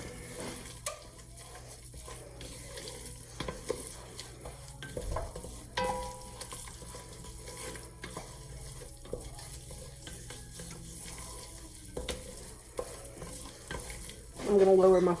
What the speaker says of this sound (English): Just keep stirring. My roux always get thicker like this.